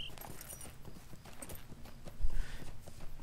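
Horse hooves clip-clopping at a steady riding pace in a video game, a soft, quick and fairly faint rhythmic patter with a slightly heavier thud near the end.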